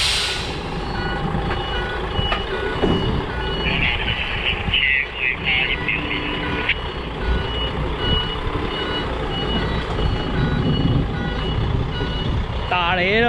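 A container truck reverses slowly on a country road, its reversing alarm beeping in a steady repeating pattern over the low diesel engine rumble, with occasional air-brake hiss and people talking nearby.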